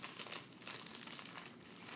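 A plastic bag inside a small Teapigs liquorice and mint tea box is opened, giving a continuous, close crinkling and rustling of thin plastic with no talk over it.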